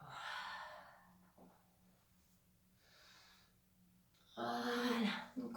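A long, breathy exhale during a slow spiral body-movement exercise, soft and close, with a quieter airy breath midway and a stronger rush of air near the end; no talking.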